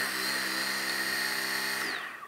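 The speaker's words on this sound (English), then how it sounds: "your foam sanding pad onto the sander, I'll go ahead and turn it on" A steady, high-pitched electric whine of a Surfprep electric orbital sander with a foam pad running continuously, then winding down at the end.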